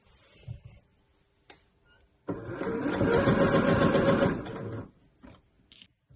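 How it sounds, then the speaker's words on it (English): A sewing machine slowly stitches the neckline of a Breton stripe tee in one burst of about two seconds, with quiet handling sounds before and after. "Just sewing fairly slowly."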